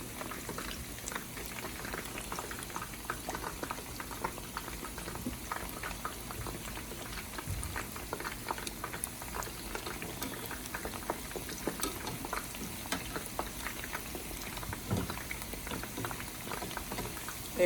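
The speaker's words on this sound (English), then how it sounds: "They are frying so beautiful." Chicken pieces frying in hot oil in a pan that is part pot, part wok, part skillet, giving a continuous dense bubbling sizzle with fine crackles, steady and close throughout, no talking.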